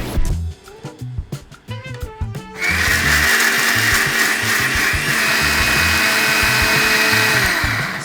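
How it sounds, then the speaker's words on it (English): A blender whirs loudly and continuously as it purees cooked vegetables for a hidden-veg pasta sauce, preceded by a few seconds of bumps and handling clatter before the motor starts. "So that's all blended now."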